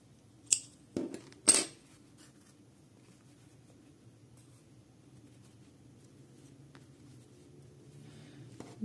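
Scissors snip crochet yarn in two or three quick sharp cuts close by, followed by a long stretch of faint room hum.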